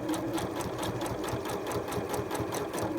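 Sewing machine top stitching the seams of a cupped bustier corset top, a steady fast mechanical chatter running without pause, close and moderately loud.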